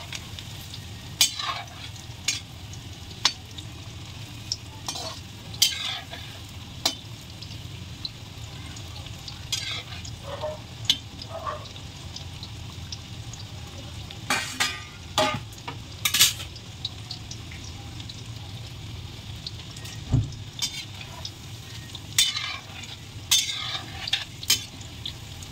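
Chicken pakoda frying in a kadai for street-style spicy chicken pakoda, a steady close sizzle of hot oil with frequent sharp clinks and scrapes of a spoon stirring and turning the pieces, no talking.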